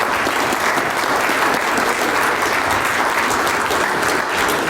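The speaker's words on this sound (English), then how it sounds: "So give yourselves a round of applause." Steady, dense applause from a large audience at a community gathering in Ogden, continuous and full throughout with no gaps or talk.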